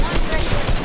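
A brief, loud burst of rapid gunshots in a video game, fast clattering shots packed into under a second.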